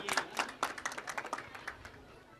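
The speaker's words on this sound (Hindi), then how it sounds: "इन बच्चों के लिए जोरदार ताली बजाइए" Audience at a school annual function applauding for the children, producing a burst of claps that peaks early and then thins out over a couple of seconds, moderately close.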